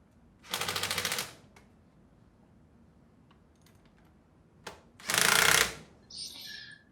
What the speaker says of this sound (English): Tighten those bolts down in a star pattern, bringing the chamber down evenly